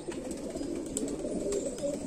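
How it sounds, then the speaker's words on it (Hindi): Pigeons of the Madeen breed from Rampur coo softly in a loft at R.S. Pura, Jammu, a low murmuring burble under steady background hiss, close but quiet, with no talking. "ये उस्ताद के कबूतर हैं।"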